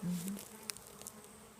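Honeybees buzzing around a newly installed beehive box on a farm, a low steady drone with one bee passing close at the start, then a fainter hum continuing outdoors.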